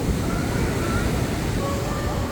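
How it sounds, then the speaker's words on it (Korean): Strong ocean surf breaking on a long beach in Nha Trang, Vietnam, a steady continuous roar of waves mixed with wind rumble throughout. "서핑이 가능한 파도입니다"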